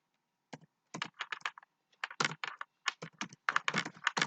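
Code being typed on a computer keyboard, a close, quick run of crisp key clicks in bursts with short pauses between them, no voices present.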